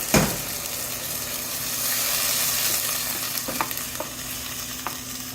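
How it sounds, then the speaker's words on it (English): Wild boar pan sauce deglazed with wine, with a loud hiss as the liquid hits the hot pan, then a steady close sizzle and a few sharp scrapes of stirring. "I'm going to deglaze it with a little wine."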